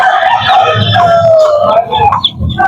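A black spar gamecock with white legs and white hackles gives loud, close clucks and short calls, while someone talks over the bird.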